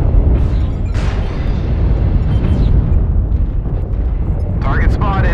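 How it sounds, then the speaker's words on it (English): Loud, rumbling airstrike explosions in MechWarrior Online, a deep continuous roar with several sharp blasts, under radio-style voice callouts and a player talking. "Airstrike activated."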